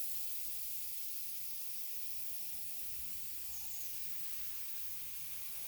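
Airbrush spraying candy paint over painted flames, a steady faint airy hiss that runs unbroken and even throughout with no talking.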